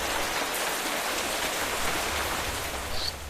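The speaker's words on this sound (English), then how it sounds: "Stupid noisy rain." Steady rain in Minecraft, a dense continuous hiss of falling drops with a low rumble underneath, even and unbroken throughout with no voices.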